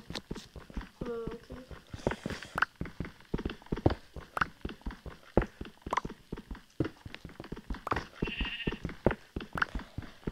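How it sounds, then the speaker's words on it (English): Sheep bleats from Minecraft mixed with footsteps and clattering, while a person talks throughout. "You hear that sheep?"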